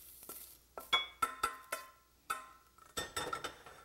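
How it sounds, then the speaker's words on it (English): Metal frying pan clinking and clattering onto a stovetop in a home kitchen, a series of sharp, close metallic knocks and rings spread unevenly across a few seconds, with no talking. "Put the pan back."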